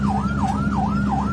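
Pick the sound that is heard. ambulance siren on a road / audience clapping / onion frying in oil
ambulance siren on a road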